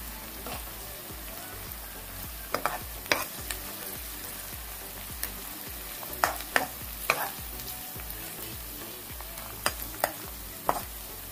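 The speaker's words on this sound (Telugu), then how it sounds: "ఇప్పుడు దీని అన్నిటిని బాగా ఫ్రై అయ్యేటట్లు చేసుకున్నాం" Prawns frying in a pan with chopped green chillies: a steady crackling sizzle with scattered sharp pops and the clink of stirring, close up and uninterrupted by talk.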